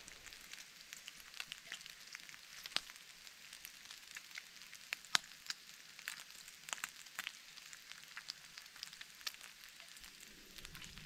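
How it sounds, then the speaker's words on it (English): Bacon fries in a pan on a wood-burning firebox stove outdoors in the woods, a faint, steady sizzle with scattered sharp pops and crackles and no voices. "And we'll get the bacon on just now."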